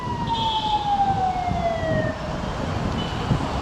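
An emergency vehicle siren wails through a city street, its tone sliding steadily downward over a few seconds above a constant wash of traffic noise.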